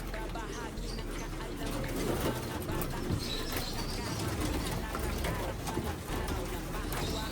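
Soft cooing of racing pigeons and bird chatter fill a noisy outdoor scene, with people talking in the background throughout.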